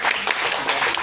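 A crowd applauds at an Islamic regional gathering in Tulang Bawang, a dense, steady burst of many hands clapping together for about a second, loud and close.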